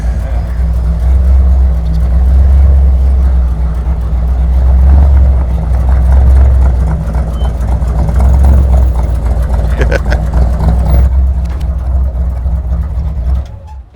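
A car engine runs loud and close for the whole stretch, a steady mid-pitched rumble that swells and eases as the vehicle, a 1970 Datsun 510, pulls up, with no talk over it.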